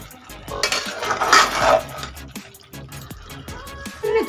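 Mutton curry is mixed with a spoon in a metal pot after a pinch of grated nutmeg goes in, giving a burst of close clinks and scrapes of metal on metal, louder in the middle and then trailing into lighter taps.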